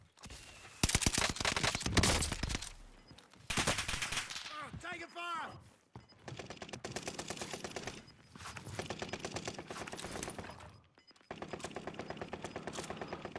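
Rapid bursts of automatic gunfire in a multiplayer shooter video game, loud and repeated in several long strings with short pauses between them.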